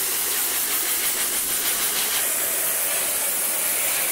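An air compressor nozzle blasts air under floor tiles, a loud, steady, close hiss of rushing air that holds constant throughout with no talking.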